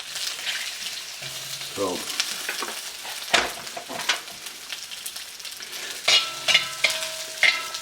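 Beef pieces frying and browning in a hot pan give a steady sizzle, with sharper crackles and bursts of stirring and utensil scrapes; a voice speaks briefly.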